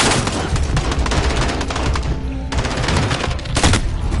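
Dense, loud gunfire from Call of Duty Modern Warfare on PS4, with sustained automatic bursts and overlapping shots filling the whole stretch with hardly a pause.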